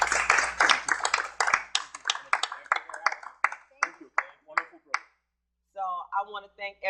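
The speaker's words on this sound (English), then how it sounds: "just give yourselves an applause" A small group claps, starting as a busy burst of overlapping hand claps that thins into scattered, slowing individual claps before dying out, followed by a voice speaking.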